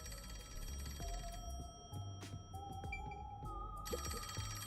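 In the video game Rain Code, a telephone ringtone repeats steadily at a quiet level, alone, with bursts of bright ringing and short chimes.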